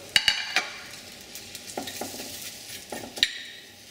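Sliced onion strips soften gently in a pan for kimchi stew, giving a faint low sizzle that is broken by sharp clinks and scrapes of a utensil against the pan.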